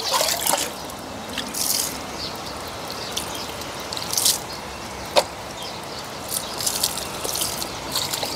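Water from a shower trickles and drips while dogs are being bathed, a soft, low stream broken by occasional splashes and one sharp drip-like tap.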